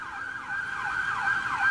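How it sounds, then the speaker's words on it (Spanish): Emergency vehicle siren wailing steadily, its pitch sweeping up and down in repeated cycles, loud and close throughout with no other sounds. "cuando escuchamos esas sirenas que no paran"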